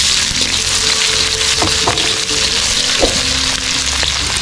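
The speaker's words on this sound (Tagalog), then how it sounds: "Siyempre, start na tayo manggisa ng sibuyas." Onions sautéing in hot oil in a pan: a loud, dense, continuous sizzle with a few soft stirring scrapes, close up and without voices.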